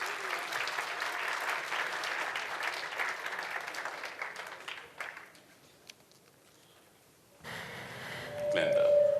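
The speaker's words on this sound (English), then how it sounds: "Ladies and gentlemen, a big round of applause for Glenda Daniels" Audience applause fills the first five seconds, a dense steady clapping that thins out and fades, followed by a quiet gap and then indistinct voices and a short tone near the end, at a media conference at Wits University.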